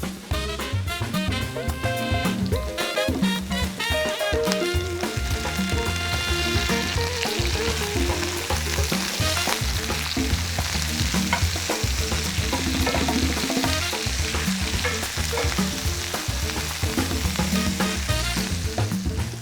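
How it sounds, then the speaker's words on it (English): Zucchini searing in a hot pan gives a loud, continuous sizzle, with a utensil stirring and turning the pieces from time to time, close up and without talk, over backing music. "we'll cook it for 3 or 4 minutes, turning it up pretty regularly until it's nicely browned on the outside"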